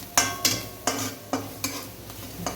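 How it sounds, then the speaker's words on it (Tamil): Potato samosa filling with garam masala being sautéed in a pan: six spaced scraping strokes of a spoon against the pan over a low sizzle, fairly close and clear, with no talking. "கரம் மசாலா பொடியும் சேர்த்து நல்லா வதங்க விட்டுடலாங்க."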